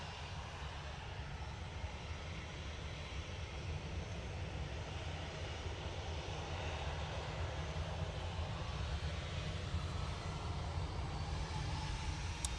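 A Ryanair jet departs Manchester Airport for Milan, a distant steady engine roar slowly building in loudness over the span, with no voices.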